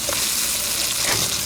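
Scallion, ginger, garlic and dried chili dropped into hot oil in a wok after Sichuan peppercorns, giving a loud, close, continuous crackling sizzle with stirring.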